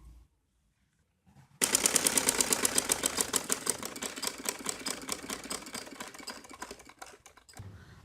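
A sewing machine stitches the side seams of a frilled frock, running in a steady, close mechanical rattle of rapid needle strokes for several seconds, then stopping near the end.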